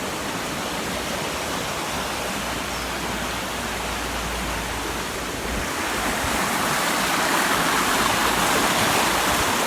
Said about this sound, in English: I so missed like living water, like when it's moving.